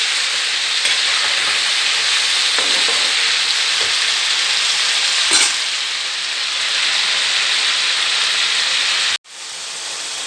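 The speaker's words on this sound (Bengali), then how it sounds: "একটু ভাজা হোক পটলটা" Pointed gourd sizzles steadily in hot oil in a pan, the base of a sesame and poppy-seed dish. A dense, even frying hiss runs throughout, broken by a brief sharp drop near the end.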